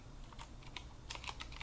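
Code being typed on a computer keyboard, a quick run of light, close key clicks in an uneven rhythm, quiet and alone without any voice.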